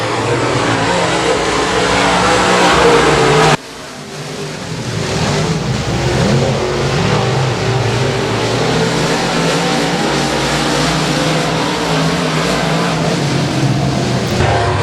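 Stock cars racing at Boothill Speedway: a loud roaring pack of engines sweeps past close by, cut sharply, then a continuous blended drone of multiple cars circling the track with wind buffeting.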